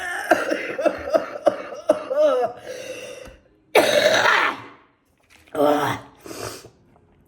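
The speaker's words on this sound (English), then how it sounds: "This is death cough." A string of harsh coughs and throat clearing, then two more separate rough bursts after a brief silence, loud and close.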